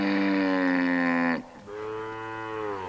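Cattle on a drought-affected Australian farm low loudly, one long harmonic moo breaking off midway and followed by a second, softer moo close by.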